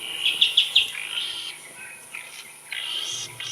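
A small bird taken from a mist net gives a few quick, high chirps while it is handled, close and clear at first, then softer scattered calls over quiet rustling.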